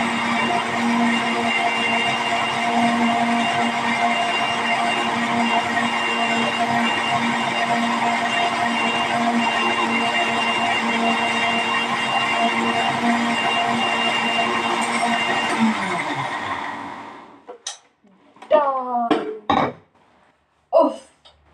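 A kitchen mixer grinder whirs loudly and steadily while grinding chillies, a close, continuous motor drone that cuts off abruptly, followed by brief clatter and a few spoken words.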